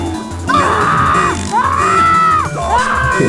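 A person's voice imitates the scream of Pinky, a character from the Sprunki game, with long wavering high-pitched shrieks rising and falling in three loud sustained bursts.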